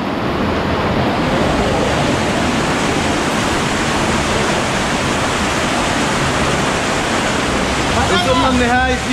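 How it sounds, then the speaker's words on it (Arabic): A roaring waterfall at the end of a 60-metre descent in Colombia, a loud continuous rush of water up close, with a voice breaking in briefly near the end. "في شلال هون"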